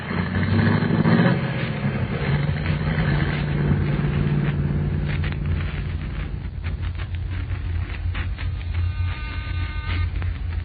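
A car engine running steadily, a dense low rumble that starts with a brief louder surge and then settles into an even drone throughout, close and continuous without speech.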